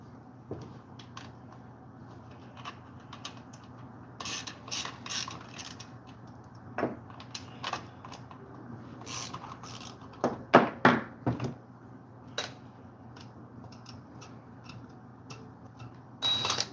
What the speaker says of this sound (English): We're gonna pop this muffler off though, and we're going to check for spark.